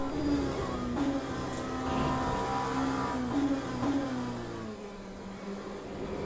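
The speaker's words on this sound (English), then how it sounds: "Gibson engine. Sounds great." A Gibson race car engine in Le Mans Ultimate drones and revs through gear changes, a continuous mid-pitched roar with rising and falling pitch sweeps, loud and close with no talk over it.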